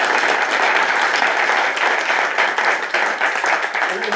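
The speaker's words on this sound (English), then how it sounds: "Give them another round of applause." Steady, dense clapping from an elementary school audience fills a room after the school garage rock band plays, holding an even level throughout.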